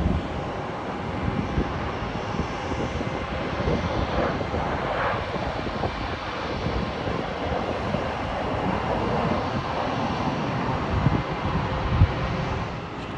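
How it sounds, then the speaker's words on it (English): A KLM Boeing 737 arriving at Heathrow from Amsterdam gives a steady, broad jet-engine roar that holds at a constant loud level throughout, with no voices. "KLM's Boeing 737. That's arriving at Heathrow from Amsterdam."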